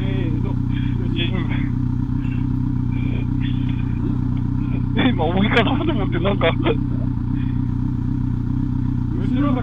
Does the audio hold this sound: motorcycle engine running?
yes